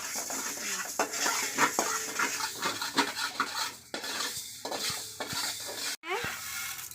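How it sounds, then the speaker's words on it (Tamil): Fenugreek seeds dry-roasting in a pan until golden: a spoon stirs and scrapes steadily against the metal, with light crackling and rattling of the seeds, close and clear with no talking. "பொன்னிறமாக வர்ற மாதிரி வறுத்துக்கணுங்க"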